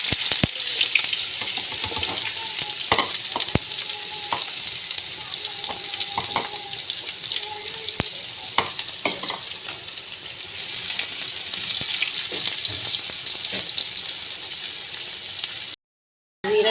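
Cumin seeds and onion frying in hot oil with a busy crackling sizzle, broken by sharp clatters of stirring against the pan, then a brief drop to silence near the end.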